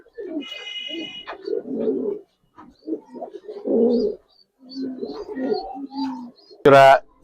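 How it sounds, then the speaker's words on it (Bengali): Silver pigeons kept as home-bred birds coo in a loft, their low throaty calls repeating near and moderately loud, broken by a brief flutter and a sharp burst near the end. "সিলভার কবুতর দেখেন ভাই"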